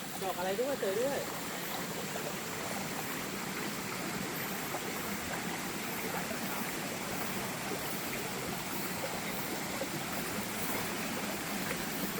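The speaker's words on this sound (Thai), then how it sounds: "นี่คือส่วนบนสุดของน้ำตกแม่กระดังลานะครับ" Steady rushing water flows throughout, a broad continuous wash of a stream at the top of Mae Kradueng Lang waterfall near its drop, with a brief faint whistle-like tone at the start.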